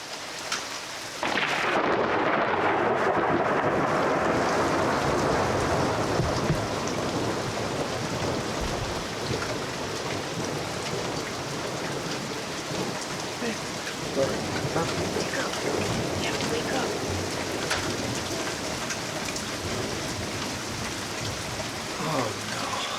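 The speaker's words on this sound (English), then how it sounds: "the sound of heavy rain" Heavy rain pours in a steady, dense roar, with low rumbles of thunder rolling underneath, loud and continuous throughout with no voices.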